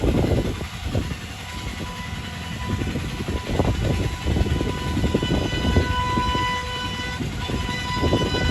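The Allama Iqbal Express pulls into Dabheji railway station, a loud steady rumble of wheels and rolling stock filling the whole stretch, close by and continuous.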